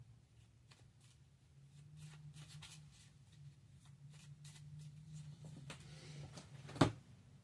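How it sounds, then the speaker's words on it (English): Quiet riffle and soft sliding of Risk Shadow Forces Warfare deck cards being shuffled up close, a low steady hum underneath and one sharp snap near the end. "I'm going to shuffle these cards right here"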